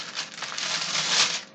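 A plastic bag crinkles as tofu is stored away in a home kitchen, a close, continuous rustling and crackling that fluctuates for a moment and then fades.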